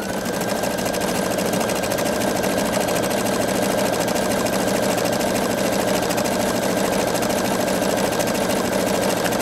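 A Pfaff Creative 3.0 sewing machine stitches out a tapered stitch, its motor humming in a loud, even, rapid whir that runs unbroken throughout.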